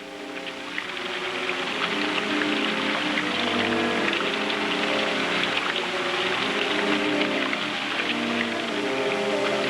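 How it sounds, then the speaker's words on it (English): Steady rain beats on a window, a dense, continuous patter holding at an even level throughout with no voices. "It was the rain on the window that woke me."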